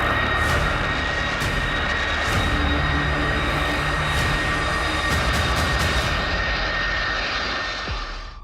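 Air Force One, the US presidential aircraft, roars with a loud, steady jet engine drone that has a faint whine and some clattering on top, then eases off slightly at the end.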